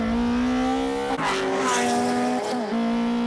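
A 420-horsepower BMW M3 and a Nissan MRS race on a mountain pass: a loud, sustained engine drone holds steady while tires squeal in a burst through a corner midway, and the engine note dips briefly before recovering.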